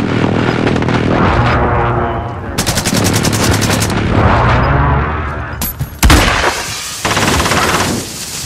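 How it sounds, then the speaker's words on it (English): Rapid bursts of gunfire, heavy booms and explosions from a Call of Duty Hardcore HQ match, continuous and loud, with a dense burst of rapid shots midway and sharp blasts near the end. "Friendly precision airstrike on the way."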